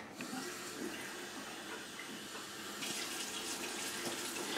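Water runs from a kitchen tap during home cooking, a soft steady stream that swells and brightens partway through as the flow changes, fairly close and alone.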